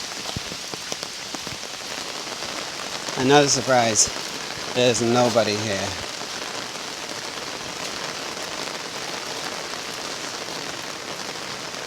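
Steady rain falls during a mountain hike at the start of the rainy season, a constant moderate patter throughout, with a voice speaking briefly over it midway.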